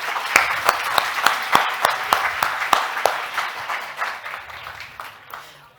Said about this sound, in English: maybe we can also give them a round of applause for all the work they've put in.